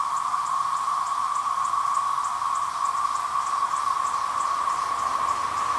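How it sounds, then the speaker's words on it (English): Cicadas in the trees at Jordan Lake give a continuous, even electric drone with faint pulsing, steady and moderately distant throughout, with no voices. "And I hear cicadas in the trees."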